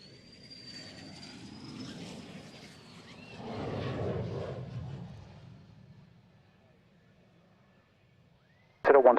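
An aircraft turns final with gear down to land at the 2012 Waddington airshow. Its engine roar is distant and moderate, swelling to a peak midway and then fading to near silence before a sharp loud burst at the very end.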